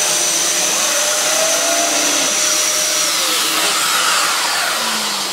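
Upright vacuum cleaner pushed over stiff, new, unworn carpet, droning loud and steady throughout with a high whine and slight shifts in pitch as the motor bogs under load.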